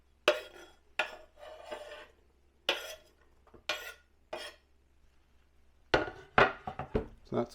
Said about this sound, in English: I'm going to open the lid and put in all of the onion.